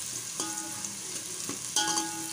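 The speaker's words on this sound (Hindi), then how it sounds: "प्याज तेल के अंदर हमने प्याज डाल दी और इसको इतनी देर तक रखेंगे कि ये फ्राई हो जाए" Sliced onions frying in hot oil for chicken nihari give a steady close sizzle, with a few light stirring clinks and spatula taps over the continuous hiss.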